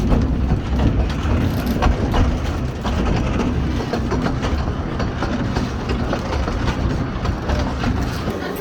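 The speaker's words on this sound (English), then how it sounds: "here we are on the train heading down the coast" A small railway train on Hayling Island rumbles along steadily with a rhythmic clickety-clack of wheels over rail joints, loud and close, with no talking.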